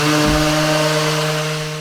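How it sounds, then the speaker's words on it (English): A random orbital sander works over a weathered wooden deck, a loud, close, steady buzzing hum with a slight dip as it bites into the boards. "I'm now going to use the random orbital sander to even out the patchiness."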